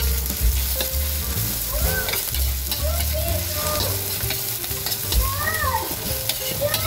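Garlic and onion frying in a pan for a Filipino-style carbonara, a continuous close sizzle with stirring and scraping of a utensil against the pan throughout.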